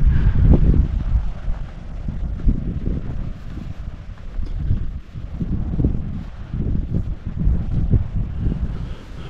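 Strong wind buffets the microphone in low, rumbling gusts that rise and fall continuously outside a church and graveyard, with no voices.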